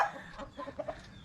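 Chickens make a quick run of soft clucks, several brief calls in succession, fairly faint and close, with no speech.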